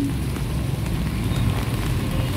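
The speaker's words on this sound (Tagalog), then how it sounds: "It's raining guys, walking. Walking under the rain." Rain falling outdoors while someone walks, a dense, steady wash of patter and hiss at a moderate level with no clear pauses.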